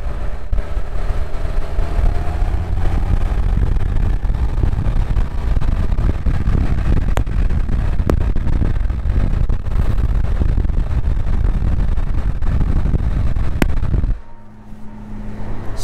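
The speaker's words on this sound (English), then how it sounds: "a quick clip of some on-road driving with the window open, just so you guys can hear the road noise" A truck on Super Swamper tires cruising on pavement with the window open gives a loud, continuous rumble of tire roar and wind that drops away abruptly near the end before picking up again.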